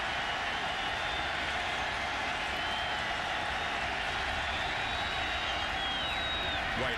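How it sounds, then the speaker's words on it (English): Pitt Panthers home football crowd roaring on third down against West Virginia in 2006, a loud sustained wall of cheering, clapping and whoops filling the stadium, with a commentator's voice faintly underneath. "Panthers crowd bringing the noise on 3rd and 3."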